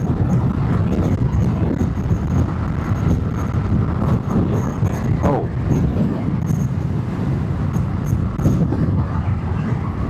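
Suzuki Burgman Street 125 scooter on the move, its engine accelerating under a loud, steady roar of road and wind noise that holds for about ten seconds without speech.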